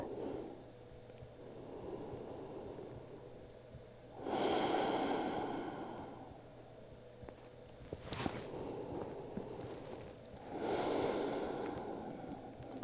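Slow yoga breathing comes through as long, soft inhales and exhales in an even rhythm, each breath lasting several seconds. It is close to the microphone against a quiet room.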